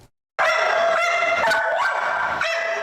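A dog at an animal shelter gives one loud, sustained whining bark-howl that bursts in after a moment of silence and keeps going, close and harsh, with slight wavering in pitch.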